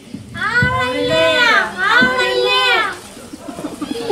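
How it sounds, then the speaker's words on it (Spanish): Children at play call out in high, drawn-out voices, two long sweeping shouts close together, followed by softer scattered chatter and movement. "Entonces empecé a escuchar unos niños jugando que decían"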